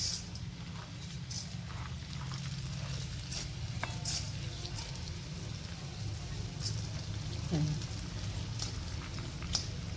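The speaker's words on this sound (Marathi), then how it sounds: "शेंगदाणे भाजून झाले आता याच्यातच मी उडदाची डाळ टाकते" Urad dal and peanuts dry-roasting in a pan give a steady low crackle and scraping as they are stirred, continuous and close throughout.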